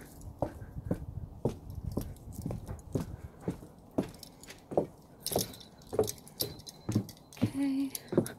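A bunch of keys jangling and clinking in repeated short bursts at an irregular rhythm, close by, with faint background activity and no talk.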